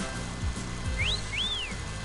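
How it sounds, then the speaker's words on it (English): Two short rising whistle tones, a proximity alert in Yooka-Laylee, the second longer and arching up then down, sound over a low background hum with soft thumps. "I get that whistling sound if something's nearby."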